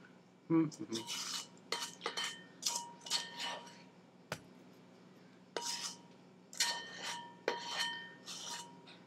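A spoon scrapes and clinks against a mixing bowl while cookie dough is worked out of it, giving a series of short, close rasping strokes and light metallic taps with brief pauses between them.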